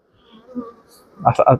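A honeybee colony hums at an open hive, a soft buzzing that swells into a louder burst near the end, close up and brief.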